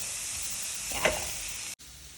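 Rice and vegetables fry in a pan over a medium flame in a Kerala home kitchen, giving a steady close sizzle. A brief stirring swell comes midway, then a short dropout near the end.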